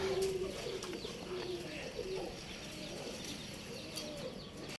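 Pigeons coo softly nearby in low, repeated calls against a quiet outdoor background.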